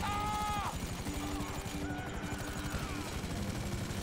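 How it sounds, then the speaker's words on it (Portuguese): A helicopter in the GTA V video game, during a gunfight mission, gives a steady, throbbing rotor chop that runs the whole time under excited voices and other game noises. "Eu não sei pilotar esse helicóptero direito e atirar ao mesmo tempo."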